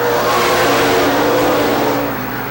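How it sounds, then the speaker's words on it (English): Race car engine of the number 39 car pulling away at Rockford Speedway in 1994, a loud, steady mid-pitched roar that holds strong throughout and eases slightly near the end. "In the meantime, Papini pulling away in the 39 car."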